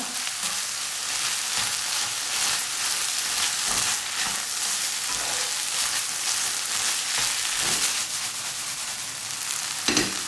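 Peaches and chicken stirred in a hot frying pan, with a splash of Fanta in the mix: a loud, continuous crackling sizzle broken by occasional scraping stirs, close up and without speech.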